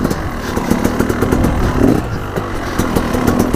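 A small pit bike motorcycle engine buzzes and clatters steadily nearby, its revs rising and dipping slightly on a dirt run, with no talk over it.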